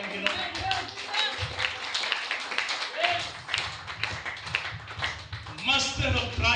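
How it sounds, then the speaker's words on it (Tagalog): A church congregation claps for the Lord in a burst of busy, uneven hand claps during a service, with voices talking and calling out over the clapping throughout. "Palakpak ang Ginoo."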